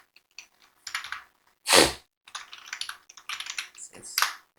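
Scattered clicks of typing on a computer keyboard to fill in a form, in short irregular bursts broken by one loud thump.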